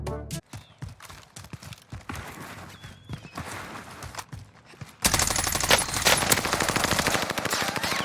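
Machine gun fire in the video game Warzone: sparse scattered shots for the first few seconds, then a sustained loud, dense burst of automatic fire with rapid rattling reports that continues to the end.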